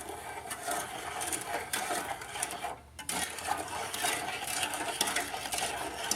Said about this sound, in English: I'm just gonna stir that together initially.